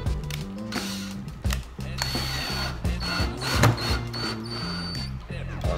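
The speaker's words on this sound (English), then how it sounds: "got the Phillips bit in the Ryobi" Ryobi drill with a Phillips bit drives a screw in bursts of ratcheting, whirring motor sound that start and stop several times, close and fairly loud.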